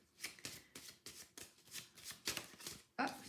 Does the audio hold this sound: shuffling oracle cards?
yes